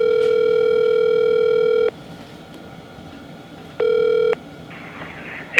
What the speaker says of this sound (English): I actually want to give him a phone call